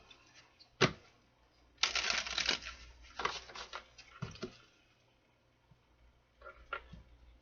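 Several quick riffling bursts of cards being shuffled, close by, separated by short pauses, with no talking.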